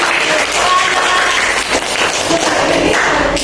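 A classroom group claps for a team after its presentation, producing a dense, loud, steady wash of many hands lasting a few seconds, with some voices mixed in.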